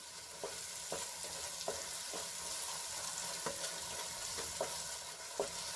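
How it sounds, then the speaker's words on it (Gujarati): Spices sautéing in hot oil for a vegetable curry, a steady close sizzle with regular scraping knocks of a spoon stirring the pan roughly once per second, no voices. "આપણે થોડી વાર માટે એને સાંતળી લઈશું જેથી કરીને આપણા મસાલા સારી રીતે તેલમાં સંતળાઈ જાય"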